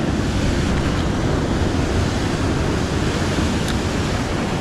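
Big ocean waves break on the shore during a sea bass fishing session from the beach. A loud, continuous wash of surf roars throughout, mixed with wind buffeting the microphone.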